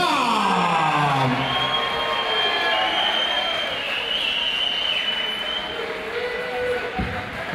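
Fight night crowd at a K-1 rules kickboxing event roars and cheers steadily for the new Asia Pacific champion, a dense, loud wall of voices with shouts and whoops, while an announcer talks over it.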